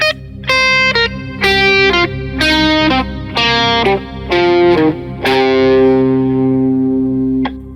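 Overdriven electric guitar plays a rising pentatonic phrase of short staccato notes, each followed by a held one, ending on a long ringing note.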